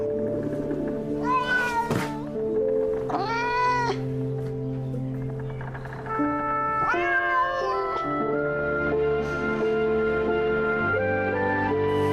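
A cat meows repeatedly in drawn-out, wavering cries, some rising into caterwauls, heard clearly over a sustained orchestral music bed with no talking.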